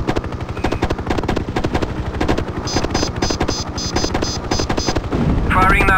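Rapid, evenly spaced bursts from a helicopter turret gun in the 1998 video game Hind, fired in continuous strings over the steady thump of rotor blades, with a few high electronic beeps and a radio voice near the end.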